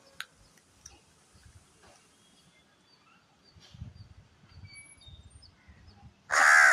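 A crow gives a single loud, close caw near the end, after a quiet stretch of faint rustling and soft background sounds.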